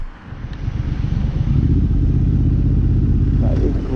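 A motorcycle engine rumbles in slow-moving traffic, a steady deep throb that builds after a soft start and then holds loud and close.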